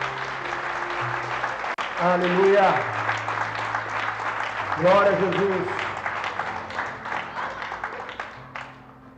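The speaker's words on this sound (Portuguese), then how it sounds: "Você pode dar um forte aplauso a Jesus?" A church congregation applauds in two swelling bursts of clapping, with a preacher's amplified voice shouting over it and organ-like held tones in the background.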